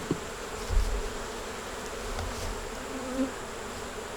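Honey bees from an open, crowded hive holding a queen, eggs, brood and stores drone in a dense, continuous buzz close by, with a few louder passes near the ear.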